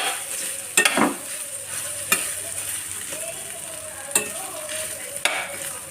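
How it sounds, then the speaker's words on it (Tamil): Garlic rice stirred and mixed in a hot pan, a continuous sizzle broken by several sharp spatula scrapes and knocks at irregular intervals, close and clear with no voices. "இதை நல்லா ஒன்றா கலந்துக்கிடுவோம்"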